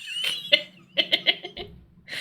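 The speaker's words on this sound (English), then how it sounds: "Clear my throat." A person clears their throat close by in a few short, rough bursts, then pauses before a final burst.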